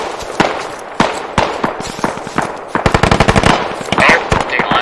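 Automatic rifle fire in the tactical shooter game Squad, with rapid bursts of sharp close shots in uneven rhythm that tighten into a dense volley, with voices faintly under the gunfire.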